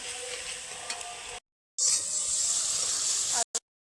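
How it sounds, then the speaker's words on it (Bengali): Ginger garlic paste sizzling in a pan over already browned onion for a purple cauliflower curry, a bright close hiss broken by two short silent gaps, with light stirring. "আদা রসুনটাকেও একটু সময় ভেজে নেব"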